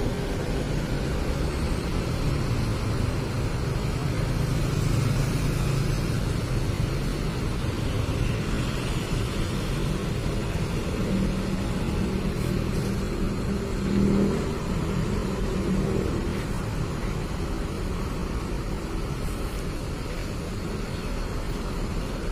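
A new Mercedes-Benz OH-1626 Haryanto bus with a Piala Mas New Rexus SL++ body is driven forward, its diesel engine rumbling steadily and fairly close, with a mild rise in revs partway through.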